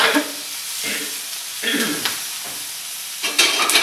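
Cuttlefish and pine nuts sizzle loudly in hot oil on a griddle, close up. Bursts of hissing rise and fall as the food is stirred and moved around.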